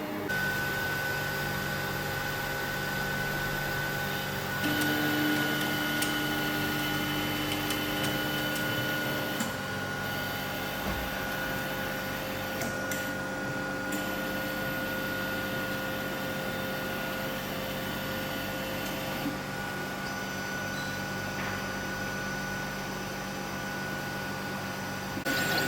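A 3D printer printing a cat model hums with a steady whir, and faint stepper-motor tones shift pitch now and then, quiet and continuous throughout.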